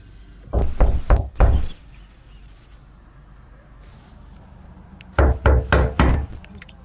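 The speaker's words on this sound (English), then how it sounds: "Open this door, I'm breaking it fucking down." Someone bangs hard on a house door in two loud bursts of four rapid, heavy pounding blows, separated by a few quiet seconds.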